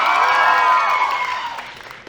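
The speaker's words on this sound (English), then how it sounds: "A big round of applause for all our seniors, ladies and gentlemen." Audience applause for seniors at an Indian Cultural Society annual school cultural event, 2022: a dense, steady wash of clapping that fills the whole moment and slowly thins toward the end, with no talking over it.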